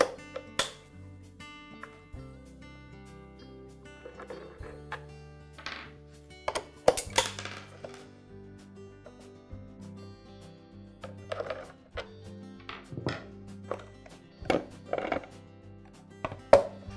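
Screws and plastic panels click and clatter as the top motor cover comes off a Campbell Hausfeld air compressor during pump and motor replacement, with scattered sharp knocks and ratcheting taps over a low steady hum, close and fairly quiet.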